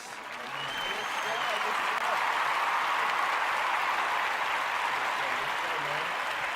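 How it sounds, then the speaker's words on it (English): An audience gives guest actor Ricky Montez a round of applause, the clapping building within a second into a broad, steady wash of many hands, with faint talk or cheering underneath. "Can we get a round of applause, man, for my homeboy"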